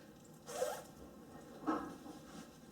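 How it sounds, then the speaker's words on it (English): A coat zipper is pulled in two quick, close strokes about a second apart, crisp and fairly quiet against a soft room background. "I say zip up my coat"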